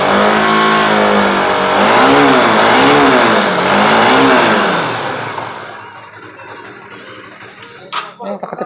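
Automatic scooter motorcycle engine revving up and down in repeated rising and falling sweeps for several seconds, then dropping back to a quieter idle near the end.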